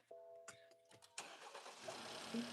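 A BMW car engine cranks with a few short whirring bursts, then catches and settles into a steady idle, heard fairly close and alone.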